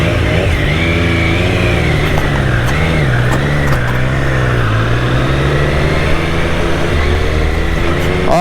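Triumph Speedmaster superbike engine running steadily and loud throughout on a ride in Dharamshala, a continuous low throbbing drone with slight rises and falls in pitch.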